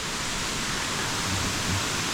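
Tat Mok waterfall in Thailand during the rainy season, water plunging into a deep ravine, heard as a steady, dense broadband roar with no talk over it.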